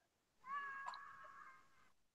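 A kitten lets out a single drawn-out meow lasting over a second, clear and fairly close, with no talking around it.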